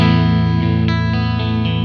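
An electric guitar played through a JST Toneforge Disruptor clean amp at default settings with a coil-tapped middle pickup position, ringing out in sustained chords and notes with fresh attacks, loud, close and steady, with no voices.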